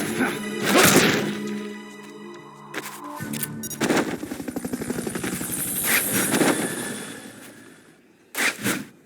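Helicopter rotor chatter in Metal Gear Solid: Peace Walker, mixed with gunfire bursts, thumps and impacts, loud and busy throughout, with a final sharp hit near the end.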